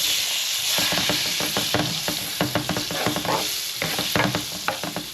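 Onions sauté in a pot of Jamaican curry chicken after the curry powder has been burned, loud sizzling cut by a rapid run of close spoon scrapes and clatters against the pot.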